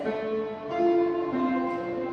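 Tenor section of a community choir singing its line in rehearsal, a few sustained vocal notes stepping between pitches, moderately loud and unaccompanied.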